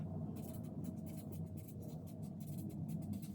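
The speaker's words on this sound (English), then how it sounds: "I'm going to write that down" Pen or pencil writing on paper, a steady soft scratching of short repeated strokes, faint and close, alone without talk.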